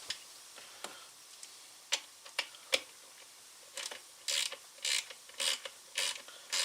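A ratchet works on the chain guard of a Stihl 460 Magnum chainsaw. It starts with sparse, quiet ticks and clicks, then builds to a run of louder, quick ratcheting bursts near the end.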